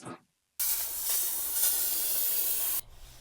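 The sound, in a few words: spraying cleaner inside oven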